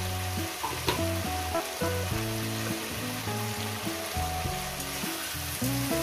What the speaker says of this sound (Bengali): ভাজার মধ্যে আমি হলুদের গুঁড়োটা দিই,